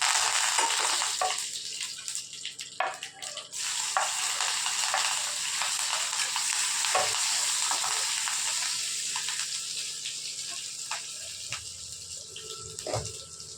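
Mustard seeds, cumin and curry leaves sizzle in hot oil, a continuous close frying hiss that eases slightly toward the end, with occasional faint clinks and no speech.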